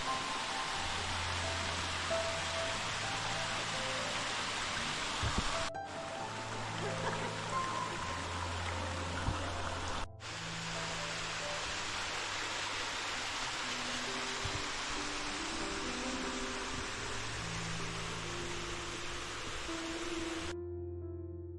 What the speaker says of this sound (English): This beautiful little spot has another waterfall and a rock pool on Picnic Creek.